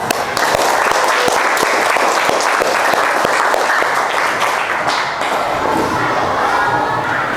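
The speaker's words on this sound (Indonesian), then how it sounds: "Tepuk tangan." A classroom or lecture audience bursts into loud, dense applause with sharp individual claps and some cheering, steady throughout before tapering slightly near the end.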